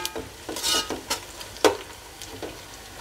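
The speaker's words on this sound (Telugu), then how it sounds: "ఉల్లిపాయ వేగిపోయింది, ఇప్పుడు టమాటా వేసుకుంటున్నాను." Onions frying in a pan for prawn biryani, a steady sizzle with repeated scraping stirs of a utensil against the pan, close and fairly quiet, with no talking.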